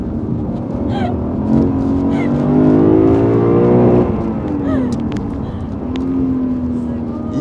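A Lexus IS500 sedan's V8 revs hard on a Japanese mountain pass, the engine note climbing and dropping through gears close to the cabin while occupants chat over it.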